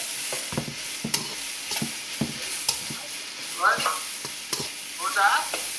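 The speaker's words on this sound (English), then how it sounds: "make sure you're constantly stirring your pan" Chicken stir-fry with ramen noodles sizzles steadily in a pan, with repeated scraping strokes of stirring and a few brighter spatters, all close and fairly loud with no talking.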